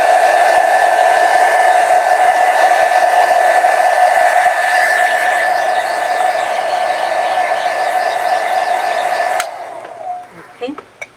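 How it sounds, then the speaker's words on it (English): A blow dryer drying a watercolor painting of tulips, a loud steady whirring hum that runs unbroken for about nine seconds before cutting off, leaving faint handling noises. "you can use a heat gun or your blow dryer, whichever you have handy"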